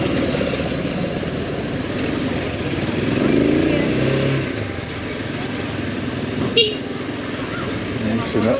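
Short car horn toots from a vehicle approaching roadside vendors on a village road in the Madagascar highlands between Ampefy and Antsirabe, sounding briefly over steady engine and road noise.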